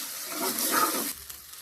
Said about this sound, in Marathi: मीडियम गॅस करून मला परतून घ्यायचं आहे.